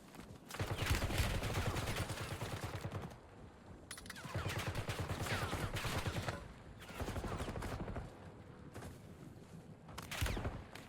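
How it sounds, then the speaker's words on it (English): Sustained bursts of automatic gunfire in the battle-royale shooter Warzone on Rebirth Island, loud and dense, coming in several long volleys separated by brief lulls. "Incoming fire!"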